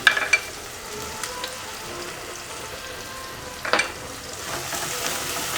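Onions with turmeric sizzle quietly in a pan, a soft steady frying hiss broken by a few brief stirring clatters.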